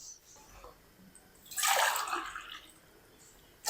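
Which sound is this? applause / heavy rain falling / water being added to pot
water being added to pot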